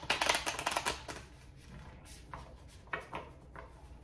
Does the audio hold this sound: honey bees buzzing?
no